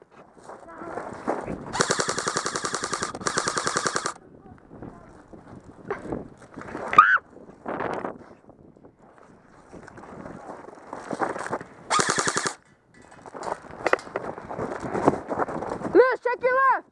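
Airsoft pistols fired two at a time during a winter outdoor airsoft game, with quick bursts of rapid snapping shots and scattered single pops, mixed with people talking and shouting between volleys.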